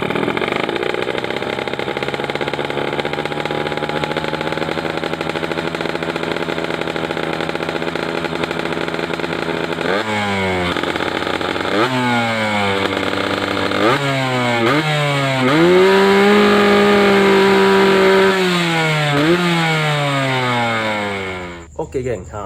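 A motorcycle engine with a newly installed RHS piston, on a Dinamik 120 highway-spec build, idles steadily at close range. It then blips through a series of sharp revs and a longer held rev before cutting off.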